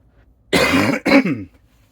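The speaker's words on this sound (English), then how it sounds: "Sorry about the coughing." Two harsh, close coughs in quick succession, loud and raspy, with near silence before and after.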